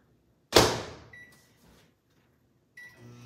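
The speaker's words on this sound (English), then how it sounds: "I'm going to give it one more second in the microwave." A microwave oven heating frosting: a sharp door clunk followed by fading hum and short beeps, then quiet before another beep and the start of a low running hum, close by in a home kitchen.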